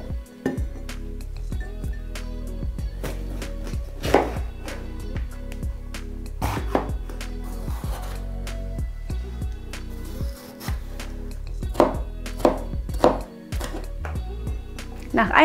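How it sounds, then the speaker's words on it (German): A knife chops filling ingredients into small pieces on a board for stuffed party bread rolls, with close, irregular thuds and taps. "Da wir nur kleine Partybrote haben, sollten die Stücken auch wirklich klein geschnitten werden."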